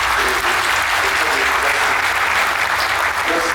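A crowd at a closing ceremony applauds during a speech by a business association president, with loud, dense, sustained clapping that fills the whole stretch.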